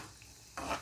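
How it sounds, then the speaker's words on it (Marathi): Wheat flour shankarpali dough pieces fry in hot oil, a faint, low hiss that swells into a brighter crackling sizzle partway through the short moment, with no voices. "आपल्याला या शंकरपाळ्या तळून घ्यायच्या आहेत"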